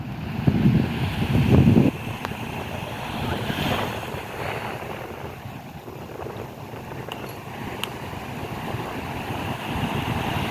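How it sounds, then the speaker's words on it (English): Strong ocean waves at Ko Olina Lagoon beach in Hawaii, a continuous rushing surf with a louder crash near the start, mixed with wind noise and fading to a steady roar. "Whoa, the waves are so strong."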